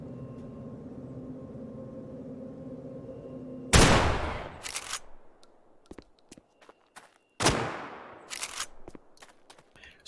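Two loud, sharp blasts from a Model 1887 lever-action shotgun in Dead Matter, several seconds apart, each followed by a decaying echo and clacking reload sounds, after a low engine-like drone cuts off.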